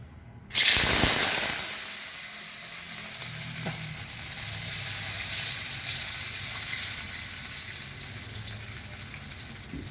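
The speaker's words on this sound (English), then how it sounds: "after the cooking oil is hot, put in the seasonings into the pan" Seasonings drop into hot cooking oil in a pan for fried rice and burst into a loud, sudden sizzle that settles into a steady, close frying hiss, with a faint clink partway through.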